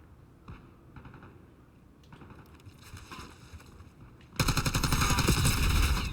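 Rapid gunfire in a military shooter video game with marksman rifles, starting as scattered shots then bursting into a loud, dense, continuous volley near the end, no talking.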